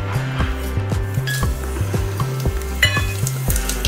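Whole spices, including lightly cracked black cardamom, sizzle in the leftover hot oil for dhaba-style dum aloo, a loud steady crackle with a rhythmic clink and scrape of a spoon stirring the pan.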